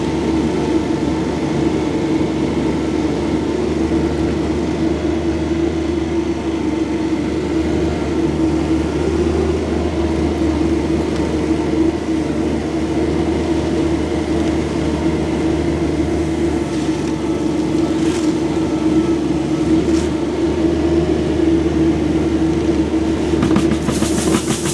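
A 2025 Kubota SCL1000 mini rubber-track skid steer loader runs steadily, its engine giving a continuous loud drone with a constant low hum and no talking.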